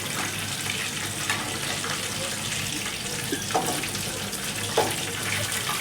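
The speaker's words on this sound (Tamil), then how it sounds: "கொஞ்ச நேரம் அப்படியே ஃப்ரை ஆகி வரட்டும்" Chicken fries in a pan with a steady, broad sizzling hiss that fills the background, close and constant. A few faint clinks and scrapes come through near the middle and end.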